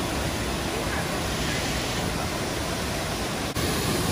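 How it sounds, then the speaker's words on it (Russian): Triberg waterfall in the Black Forest, Germany, a steady broadband roar of falling water that stays loud and unbroken throughout, with faint crowd murmur mixed in. "этот водопад красивенный"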